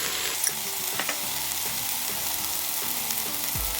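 Char-grilled peppers and a splash of their oil sizzle steadily in a pot, a dense continuous frying hiss with a few soft clicks of stirring, close and alone without voices.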